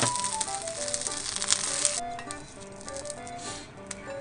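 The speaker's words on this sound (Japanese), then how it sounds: "そしたらね、ウインナーを焼くよ。" Sausages sizzling and spitting in a frying pan, a steady bright hiss with scattered crackles, close and fairly loud, alone with no talk.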